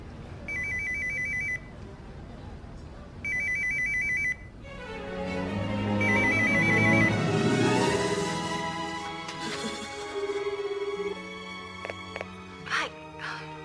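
A telephone rings with two short electronic trills spaced a few seconds apart, then a third sounds faintly under a swell of background music and other noise.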